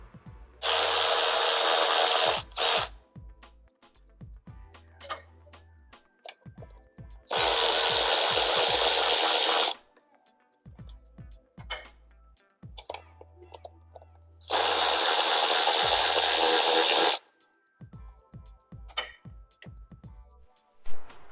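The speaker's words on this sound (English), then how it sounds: "So I gotta remove those first before I could get to the valve cover gasket bolts." A power tool spins off valve cover bolts on a Jeep WJ 4.0 in three loud, roughly two-second whirring bursts, separated by clinks and handling noises of tools and parts.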